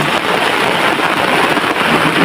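Steady rain falls loudly and continuously at a camping ground, a dense unbroken hiss of drops with no voices.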